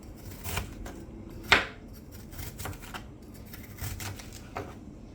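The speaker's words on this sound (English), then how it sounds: "Pepper, cut finely." A knife finely chopping pepper and onion on a cutting board, with a few scattered close, crisp cuts and one sharper knock against faint background noise.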